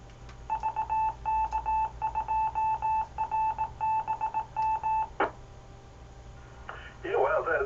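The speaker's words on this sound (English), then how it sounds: "that ID is, the CW ID is quite loud, isn't it?" A loud amateur radio CW Morse code identification tone, a steady beeping pattern of short and long pulses, repeats over hissy 2m net background noise, then stops and a voice starts speaking over the channel.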